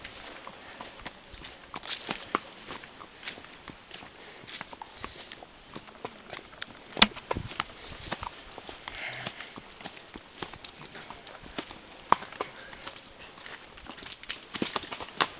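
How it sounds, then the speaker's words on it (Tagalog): Horse hooves clip-clop along a path near El Kabayo Falls in Subic Bay Freeport Zone, a quiet, irregular series of taps that are sometimes sharper and continue steadily with faint outdoor background noise. "Uy, Kabayo."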